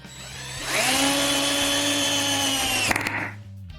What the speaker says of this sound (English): Apply a little WD-40 to the screw and drive it in quickly with no resistance.